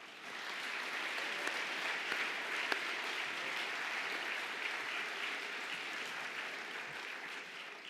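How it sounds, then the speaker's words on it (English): A crowd at a university alumni awards ceremony applauds the honorees with sustained, even clapping from many hands that holds steady for roughly eight seconds. "Let's give them one more round of applause."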